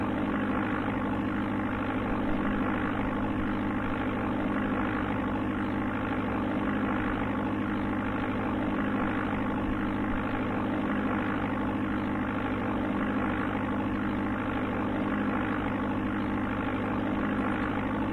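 Propeller plane engine from the Amiga game Flight Simulator II: a steady, unbroken synthesized drone that holds at a constant loud level the whole time, with no voices.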